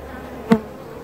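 A honey bee buzzes close by at a hive entrance during July beekeeping in Newfoundland, a single short, sharp buzz rising out of quiet background and fading quickly.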